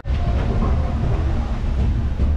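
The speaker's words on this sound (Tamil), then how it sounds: "ட்ரெயின் இப்போ பார்த்தீங்கன்னா தாம்பரத்துலேருந்து கிளம்பிருச்சு." Vaigai Express train pulling out of Tambaram station, heard from inside as a loud, steady low rumble and rattle of the carriage, without talk.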